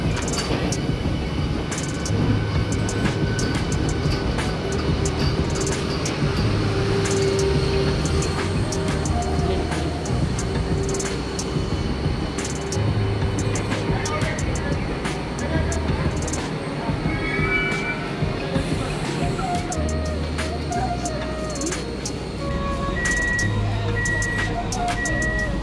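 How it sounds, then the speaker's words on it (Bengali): A Krishnanagar AC local train runs after leaving Chakdaha station toward Kalyani, giving a steady loud rumble with rhythmic wheel clatter, squeals and electronic tones heard from inside the carriage throughout. "ট্রেন এখন আমাদের চাকদা স্টেশন থেকে ছেড়ে দিয়েছে এবং পরবর্তী স্টপেজ দেবে কল্যাণী।"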